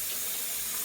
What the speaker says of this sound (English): So you just want to start rinsing with cold water.